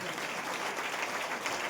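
Brief burst of loud applause from an audience at a direct-selling business plan presentation, a crowded patter of clapping hands filling the whole moment.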